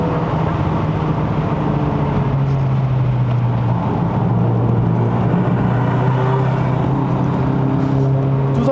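An MK8 Volkswagen Golf GTI engine drones steadily as the car climbs the uphill road to Genting in Malaysia, a continuous, fairly loud in-cabin hum with slight rises in pitch.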